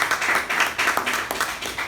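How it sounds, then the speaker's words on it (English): An audience at a speaking club meeting applauds steadily, with dense, even clapping from many hands that lasts the whole two seconds and has no talk over it. "Let's give her a round of"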